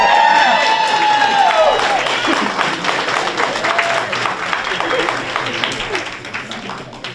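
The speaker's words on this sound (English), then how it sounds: "Audience, cheer." An audience at a March board meeting bursts into loud cheering and applause, with whoops and shouts over rapid clapping that slowly thins out over several seconds.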